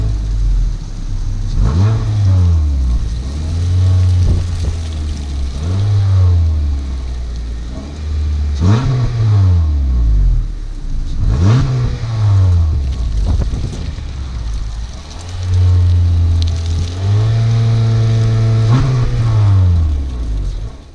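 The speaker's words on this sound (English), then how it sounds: "It's not a great sounding engine" A small four-cylinder Honda Accord Sport engine revs repeatedly, pitch rising and falling in several loud swells, with a rough, slightly rattly drone underneath.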